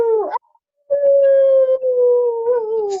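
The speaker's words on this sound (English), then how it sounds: "I think it's howling." A tabletop game sound effect of a drawn-out, wavering howl, rising then sustained and falling, heard clearly after a brief pause.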